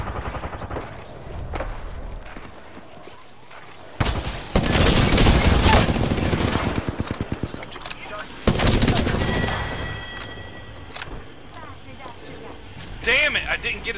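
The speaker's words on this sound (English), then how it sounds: "They're shooting at me." Rapid bursts of automatic gunfire in a battle royale shooter, loud and close, rattling in long volleys between quieter stretches, with a player talking over the action.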